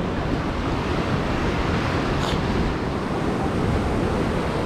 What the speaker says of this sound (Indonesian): Ombaknya lumayan keras ya.